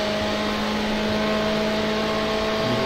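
A Porsche race car engine in iRacing holds a steady, loud tone with a faint whine, droning continuously without a break.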